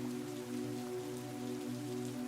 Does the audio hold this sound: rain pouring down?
yes